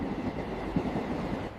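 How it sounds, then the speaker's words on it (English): A train sound effect plays as a continuous low rumble of rolling rail cars, steady and fairly loud throughout with a faint rhythmic clatter and no voices. "We travel by train every holiday."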